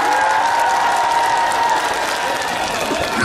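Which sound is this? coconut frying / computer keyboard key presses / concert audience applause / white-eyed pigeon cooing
concert audience applause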